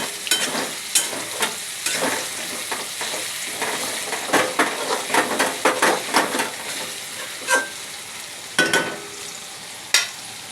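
Sugar sizzles in hot oil in a pan, a bright steady hiss punctuated by a series of sharp scraping and tapping stirs, close and fairly loud, with no one speaking.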